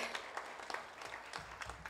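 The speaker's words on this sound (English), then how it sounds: "can we all give a round of applause again to the ICS department who got us all here today?" An audience applauds for the ICS department at a senior valedictory event, a dense patter of clapping that is soft and distant and lasts the whole moment.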